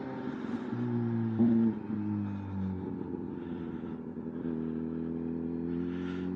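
A Kawasaki ZH2 motorcycle engine drones steadily while riding, its pitch stepping down and up with gear changes, heard close and fairly loud with wind rumble.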